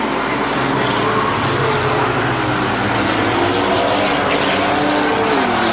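Race cars roaring around a track in the closing laps of a weekly feature race, a loud, sustained engine drone with shifting pitch as the pack passes close by.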